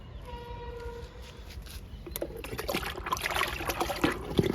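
Liquid fertilizer is poured onto garden plants as a splashing, trickling stream that builds in strength over a few seconds after a quiet start.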